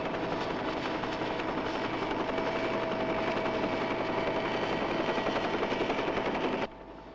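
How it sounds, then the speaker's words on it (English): A helicopter hovering in the Thunderbirds episode Pit Of Peril: a loud, continuous rotor and engine drone with a rapid chopping texture that holds steady, then drops sharply in level near the end. "I'll have to move the copter clear."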